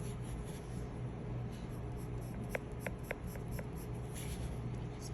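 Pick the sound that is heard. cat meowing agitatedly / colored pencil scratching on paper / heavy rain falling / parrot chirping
colored pencil scratching on paper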